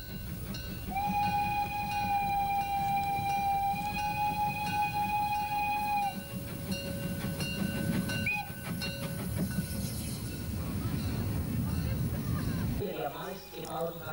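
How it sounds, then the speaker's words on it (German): A Prussian P8 steam passenger locomotive runs with a continuous rumbling roar, and a sustained whistle sounds twice in close succession early on, loud and near before the rumble briefly drops away at the end. "Nach dem sächsischen Rollwagen die preußische P8. Sie ist die meistgebaute deutsche Personenzuglokomotive."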